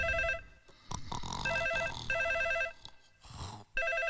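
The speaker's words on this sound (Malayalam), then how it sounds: "സാറേ ഫോൺ." An electronic telephone ringtone repeats in short pulsing bursts, beeping over a busy room with clattering movement and background noise in between rings.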